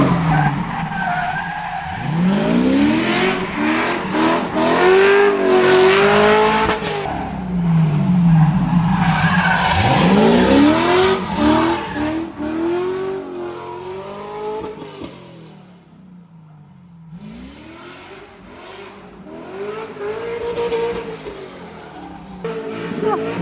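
BMW E92 M3 drifting on a mountain road, V8 engine revving hard and bouncing off the rev limiter with tire squeal, several loud rising and falling sweeps up close, a brief lull near the middle before revving builds again.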